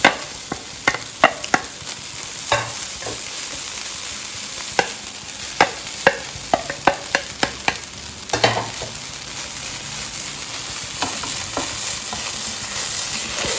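Idiyappam being stirred in a hot frying pan, with a steady sizzle under repeated sharp scraping and tapping strokes of the spoon, clustered in bursts then easing off.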